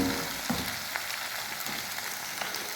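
Potato pieces fry in oil with a soft, crackling sizzle, faint and close, with scattered small pops throughout.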